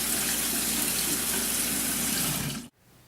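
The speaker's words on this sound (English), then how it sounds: "in order to cool it down a little faster, we can run a little bit of cold water over it" Cold tap water running over pasta in a colander in a kitchen sink, a steady close splashing stream that cuts off abruptly near the end.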